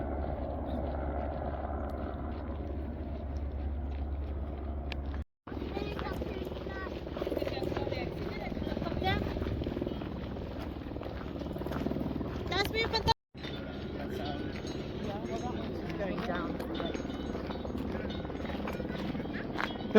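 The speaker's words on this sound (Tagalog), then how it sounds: "May helicopter doon guys na" A helicopter works in the distance over Swiss countryside, a steady rotor and engine drone with brief breaks, while people chat nearby.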